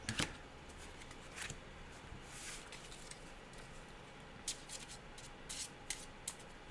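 Playing cards are shuffled by hand during a solo dungeon crawl card game, with a few crisp riffling bursts standing out over a low, steady background.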